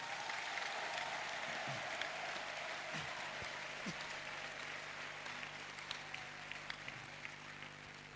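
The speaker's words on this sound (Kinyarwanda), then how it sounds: "mumuha amashyi ya nyayo" A church congregation gives a round of applause for a pastor at a choir album launch, a soft, distant wash of clapping that holds steady and slowly fades, with a few sharper knocks and thumps scattered through.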